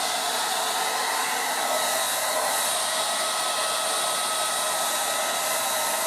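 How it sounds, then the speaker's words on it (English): A Revlon 1800W dual speed hair dryer blows with a steady, loud, unbroken whoosh and motor whine, alone with no voices. "It allows me to blow dry it and not have it flailing around like a hurricane."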